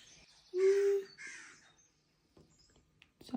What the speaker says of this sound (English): it's just a crow.